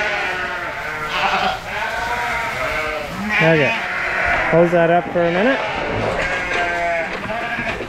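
Sheep bleat repeatedly nearby in a barn, several wavering calls overlapping, while a person talks briefly.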